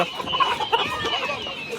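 Chickens cluck in a steady, busy chatter with no talking, several birds close by.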